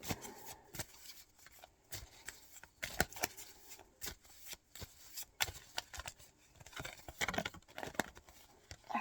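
Tarot cards being shuffled, a quiet, uneven patter of soft card flicks and slides repeating throughout, close and fairly faint.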